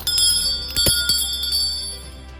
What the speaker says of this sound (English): you've got the bell here, which, you know what, I'll let you listen to that real quick